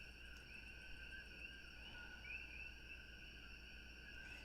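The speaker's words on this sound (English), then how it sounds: "You can hear the coqui frogs in the distance." Coqui frogs calling in the distance from a porch at night, faint repeated chirping whistles layered over a continuous insect drone and a low background hum.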